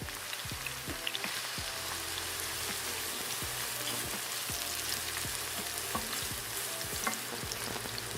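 Food frying in oil in a pan while cooking Turkish cuisine, a continuous dense crackle and sizzle with scattered pops and soft stirring knocks, close and steady, no voices.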